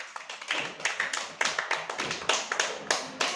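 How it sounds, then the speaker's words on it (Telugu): Second-class schoolchildren in a classroom clap their hands after singing, a quick, loose run of close, crisp claps that keeps going throughout without any talk. "చప్పట్లు కొట్టుకోండి"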